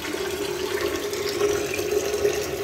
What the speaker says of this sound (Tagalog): Ngayon, check natin yung gripo kung may tubig ba.